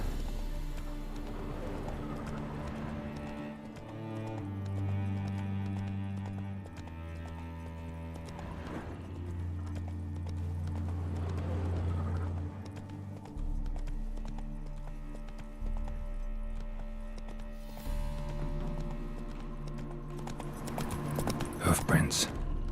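Hooves clip-clop in The Witcher 3 as the horse Roach gallops, with rhythmic hoofbeats running under game music and heavy voice-over throughout, a few sharp clatters near the end.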